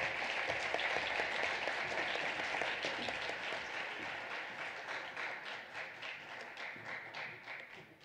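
Steady applause from a school assembly audience, many hands clapping at once, fairly far off and gradually thinning toward the end.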